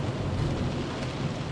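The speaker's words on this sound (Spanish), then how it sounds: "Está lloviendo." Steady rain with a low rumbling thunder bed in the video game Close to the Sun, heard as a continuous, even wash of downpour with no break and no voices across the short stretch.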